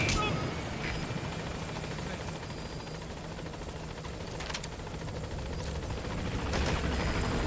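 A military transport helicopter in the video game Metal Gear Solid V approaches a landing zone, its steady rotor drone and engine whine continuous and moderately loud, with brief radio-style voice chatter layered over it.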